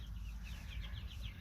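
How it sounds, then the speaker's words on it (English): Chickens cluck on a small farm with turkeys nearby, soft and low over a steady background hum. "So let's go for a walk through the chickens and the turkeys and everything"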